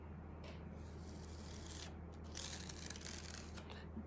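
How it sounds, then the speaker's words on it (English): Facial stubble scraped against the grain, a dense broadband scratching that swells into two louder, rougher bursts in the second half, close and alone with a steady low hum underneath. "You heard the loud scraping noise when I went this way, right?"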